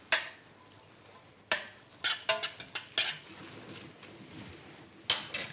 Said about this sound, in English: combine just a little bit of the tomato sauce in the spaghetti. About 2 or 3 spoonfuls. Another wee spoonful, I think. Give it a good stir.